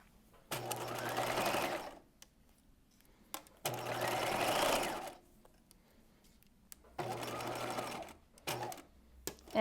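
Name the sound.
sewing machine basting a side seam with narrow zigzag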